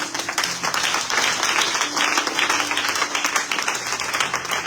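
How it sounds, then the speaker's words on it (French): A church congregation breaks into sustained, dense applause, many hands clapping together loudly and evenly throughout, with faint voices mixed into the crowd noise. "Est-ce qu'on peut acclamer ça?"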